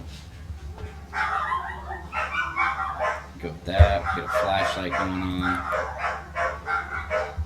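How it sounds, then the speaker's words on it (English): Dogs in the house bark loudly and repeatedly, close by, under someone talking during a game of Phasmophobia. "Sorry about the dogs barking in y'all's ear."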